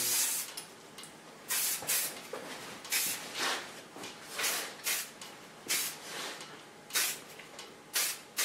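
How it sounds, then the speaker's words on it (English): Repeated short bursts of Lanza soft hairspray hiss close by, around ten pumps in irregular rhythm over a soft background. "I take a soft hairspray to finish it and to freeze the hair for a second"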